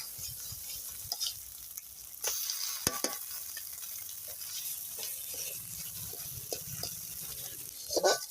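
Garlic and spices with bay leaf fry quietly in a pan, a soft sizzle broken by scattered scrapes and knocks of stirring, with no voices.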